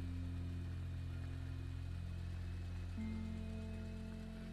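A tractor engine in the game Astroneer runs with a steady mid-pitched hum and whir, its tone shifting slightly partway through, continuous and alone without talk.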